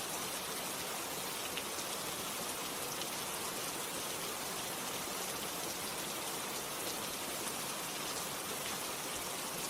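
Continuous rain falls as a uniform, full-bodied hiss, unbroken and at a steady loudness from start to finish, with no speech or other sounds on top.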